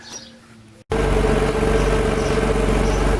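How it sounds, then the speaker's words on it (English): A 2001 Porsche Boxster 986 tiptronic idling with a blowing exhaust leak, a close, loud, steady engine drone with a fine rhythmic pulsing that cuts in abruptly after a quieter opening moment. "it's blowing under there, just under there where my finger is, there"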